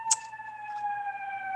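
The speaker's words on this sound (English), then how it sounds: "there's sirens" A city emergency vehicle siren holds a steady, piercing tone, loud and close, with a brief sharp click near the start and a low rumble underneath.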